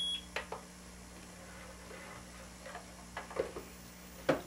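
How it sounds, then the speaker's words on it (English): A magnetic pulse stimulator set to audible mode gives faint, short beeps, one with each released pulse, spaced irregularly over a steady low electrical hum. "If I hit this audible option, then it'll pulse and beep each time the pulse is released."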